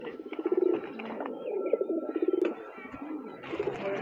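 Fancy red-tail and black-tail pigeons coo repeatedly at close range on a pigeon farm, with soft rhythmic bursts of throaty calls overlapping one another and a faint chirp near the end.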